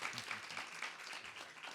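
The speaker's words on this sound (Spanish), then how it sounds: "Un aplauso." Audience applause at a book presentation, a steady wash of many hands clapping at moderate level with no voices over it, sustained through the whole moment.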